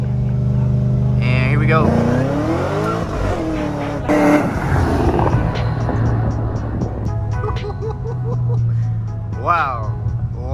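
A car pulls hard from a 30 mph roll with a built transmission, the engine rising in pitch through several quick shifts, loud and close from inside the cabin, with someone talking over it.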